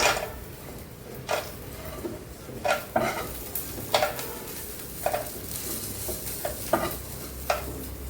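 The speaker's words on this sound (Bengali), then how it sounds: "মাছের মাথা আর বাদাম একসাথে ভাজি করে নিয়েছি।" Fish heads and peanuts fry together in oil with a quiet steady sizzle, broken by occasional scrapes and clinks of a spatula stirring against the pan, close and fairly faint.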